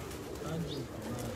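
Teddy pigeons coo in low, soft murmurs that run steadily through the short stretch, with a faint voice also present in the background.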